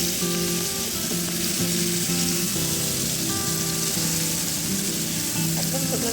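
Small prawns coated with chili, turmeric and salt fry in a pan with a steady, close sizzle that persists throughout; there is occasional light stirring and no talking.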